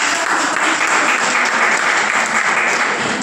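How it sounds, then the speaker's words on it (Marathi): Dense, loud applause from an audience at a company sales event, continuous clapping at a steady level throughout a few seconds. "टाळ्या वाजवा आपण"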